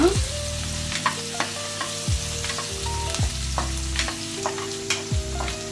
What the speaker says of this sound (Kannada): ಎಣ್ಣೆ ಕಾದಿದೆ. ಈಗ ಮೊದಲನೇದಾಗಿ ನಾನು ಜಜ್ಜಿರೋ ಬೆಳ್ಳುಳ್ಳಿ ಹಾಕೋತಾ ಇದ್ದೀನಿ